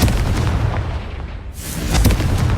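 Booming blast of the Confringo fire spell in the Hogwarts Legacy game, a loud sustained rumble that dips briefly and then swells again with a second burst.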